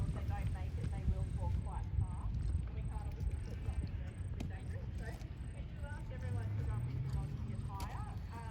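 Horses work out at an agricultural show for champion hunter hack, hooves thudding in a steady rhythm under a noisy outdoor background of crowd chatter and a distant announcer's voice.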